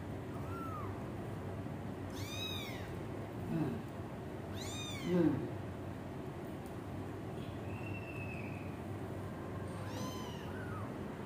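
A one-month-old kitten meows repeatedly while being bottle-fed milk, giving several high, wavering cries spaced a few seconds apart. Soft handling noises sound between the cries, and no one speaks.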